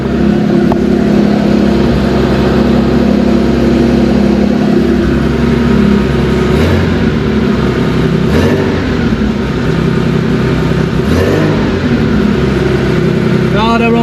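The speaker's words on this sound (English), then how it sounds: "letting us start this car" A classic Porsche 930 Turbo engine idles loudly and steadily close by, its deep rumble continuous with a few light revs, while people talk over it.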